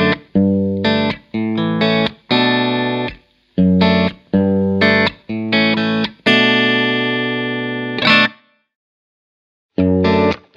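Electric guitar with a Stratocaster rear pickup played through a real DC-30 amplifier, a bright, slightly driven phrase of choppy chord stabs and short notes with one long ringing note, loud and close, ending in brief silence before one final chord.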